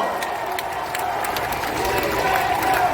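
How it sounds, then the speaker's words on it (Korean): Outdoor campaign rally crowd in Seomyeon, Busan applauding and cheering to welcome presidential candidate Lee Jae-myung, a steady dense wash of clapping and crowd noise, fairly loud and unbroken, with a voice carrying over it. "여러분 우리 이재명 후보님께 뜨거운 박수로 환영합시다"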